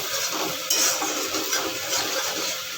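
Kashmiri chilli powder and spices being stirred into a fish curry in a pan, a close, continuous sizzle with soft scraping and stirring noises and one brief louder scrape.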